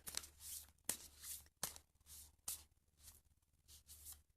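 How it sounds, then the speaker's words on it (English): Repeated riffle shuffles of a deck of cards, close and crisp, each burst of rapid flicking ending in a sharp snap, several times in a row. "I did shuffle this deck just before I started the video"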